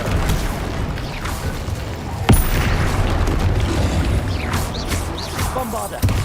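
A fire spell cast in the Hogwarts Legacy video game: a sharp burst erupts near the start of the second half, then a dense, continuous roar of flame and crackling rumble sustains loudly throughout, with another small hit at the end.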